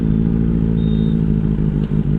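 A Benelli 600i motorcycle with a loud aftermarket exhaust rumbles close by, a steady, throbbing, heavily harmonic drone that stays powerful throughout.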